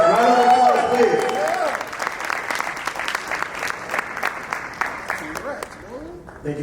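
A crowd breaks into applause over a voice and cheering at first at a startup pitch competition, then the clapping continues on its own and thins out near the end.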